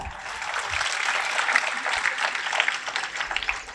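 Steady audience applause at a science exhibition talk, a dense, even wash of many hands clapping for several seconds at moderate distance, with no talk over it.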